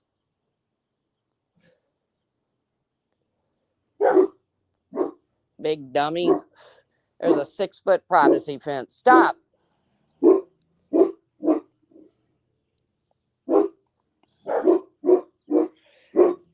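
A dog barks in sharp single and double bursts, loud and near with silent gaps between, mixed with a voice speaking in the middle of the clip.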